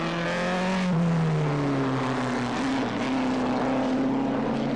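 A post-war Connaught racing car passes at Silverstone during a vintage race, its engine note loud and near, sliding downward in pitch as it goes by.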